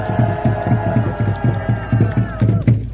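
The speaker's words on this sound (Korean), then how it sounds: "저 청년에게 큰 박수 부탁드립니다." A crowd at an anti-impeachment rally in Pohang applauds, the clapping coming in quick rhythmic bursts with some voices mixed in.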